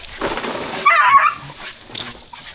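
A dog whimpers and yelps after wasp stings in short, high, strained cries close by, fading into quieter whines.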